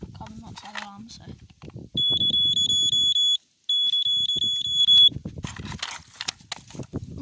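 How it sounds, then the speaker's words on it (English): A carbon monoxide alarm beeps rapidly and loudly in a fast pulsing train for about three seconds, pauses briefly, then resumes, with people talking before and after. "But it's carbon monoxide alarm"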